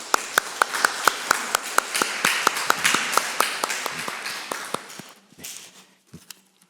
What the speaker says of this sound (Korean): 우리 축복하고 격려하는 박수로 환영하겠습니다.